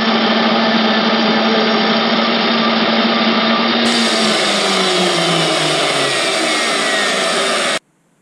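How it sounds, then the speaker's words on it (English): O1 tool steel gauge plate, 10mm thick, being milled on a tiny Proxxon mill: a loud, continuous high-pitched motor whine with cutting chatter, shifting in pitch midway and then stopping abruptly. "squaring it up on my tiny Proxon mill presented a few challenges"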